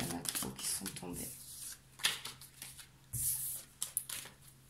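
Tarot cards shuffled and handled, then several slipping and tumbling down, heard as quick papery riffles and soft slaps in brief bursts, close by.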